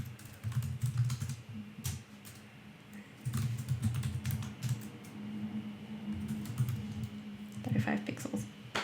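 Rapid keyboard typing while writing CSS code, steady clusters of close clicks with brief pauses, with low talking and background hum beneath the keystrokes.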